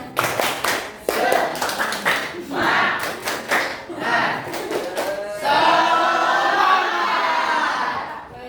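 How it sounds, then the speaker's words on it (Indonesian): Rhythmic group clapping of a tepuk semangat chant by a class of children, bursts of sharp claps in a patterned beat with chanted voices, ending in excited shouting and cheering. "Ayo kita tepuk semangat dulu."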